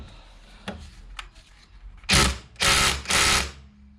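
A 13mm ratchet working loose the brake caliper bolts on a 2009 Mercedes C200, heard as three loud, close bursts of rapid clicking ratchet pawl after a few faint knocks and taps.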